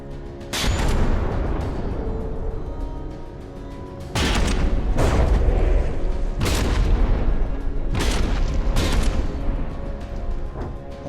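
Heavy battleship guns in a naval combat game fire in a series of loud booming salvos, roughly six or seven blasts spaced a second or two apart, each with a low rumbling tail over a steady background roar.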